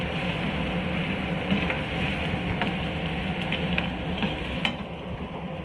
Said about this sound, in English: And then we are mixing it well